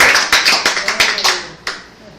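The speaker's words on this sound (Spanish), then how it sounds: "Si le va a dar un aplauso, no lo engañe" A church congregation claps during a sermon, a short burst of brisk hand claps, close and distinct, that dwindles to a few scattered claps and fades out.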